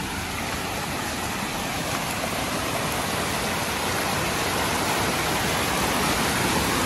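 A forest stream swollen after rain rushes past, producing a dense, even roar of flowing water that holds steady and unbroken from start to finish.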